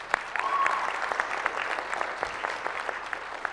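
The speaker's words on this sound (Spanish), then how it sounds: "Un aplauso para Toño." Applause from the attendees of a weekly assembly, a dense burst of clapping that peaks early and then tapers off over a few seconds, with faint voices mixed in.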